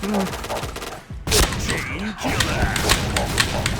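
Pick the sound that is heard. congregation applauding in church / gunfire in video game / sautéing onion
gunfire in video game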